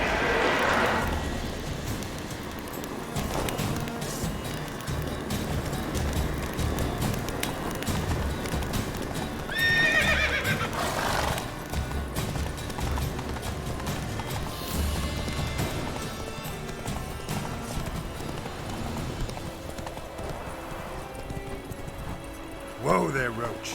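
Roach, Geralt's horse in The Witcher 3, gallops with rhythmic hoof clatter and lets out a brief whinny midway, heard under a man's spoken lines and game ambience.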